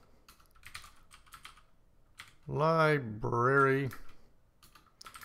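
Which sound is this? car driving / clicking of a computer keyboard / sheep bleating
clicking of a computer keyboard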